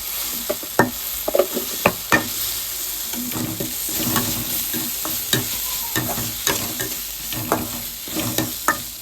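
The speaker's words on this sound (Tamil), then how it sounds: "ரெண்டையும் சேர்த்துட்டு நல்லா வதக்கிக்கோங்க" Onion masala with chilli powder and garam masala is stirred and sautéed in a pan for a Kerala-style fish fry, with soft sizzling under repeated sharp spoon scrapes and clinks, close and fairly quiet.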